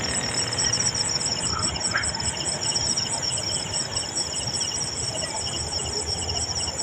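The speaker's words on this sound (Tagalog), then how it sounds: "Kaya maingay na mga ano ba tawag yan? Kuliglig." Crickets chirp steadily at night near an industrial site, a dense, continuous high trill that stays loud and unbroken from start to finish over a low rumbling background, with no talking.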